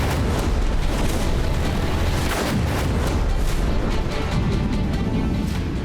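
Dense, rumbling bombing explosions over Tehran roll continuously, loud and chaotic, with sharp bursts scattered through a heavy low roar.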